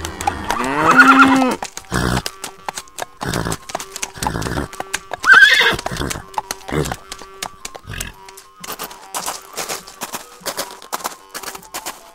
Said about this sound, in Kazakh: Малдар болсо той-токойлорго качып кетишет.